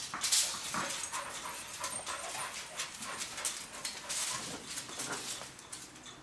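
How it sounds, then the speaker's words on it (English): A dog whimpers and pants nearby in a workshop in short, breathy bursts, with faint high-pitched whines over a quiet indoor background. "dogs are a distraction in the shop"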